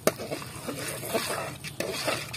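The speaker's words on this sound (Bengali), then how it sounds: "এখন বাগার দিতে হইবে।" Onion-and-spice tempering (baghar) for Bogura-style aloo ghati sizzles in a pan with a few sharp clinks and stirring scrapes, moderately close and heard without talk.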